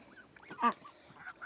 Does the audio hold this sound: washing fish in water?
no